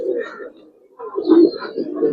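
A red Muslodom pigeon coos close by in two low, throaty bursts separated by a short pause.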